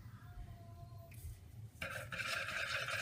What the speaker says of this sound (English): I like to whisk in my colorant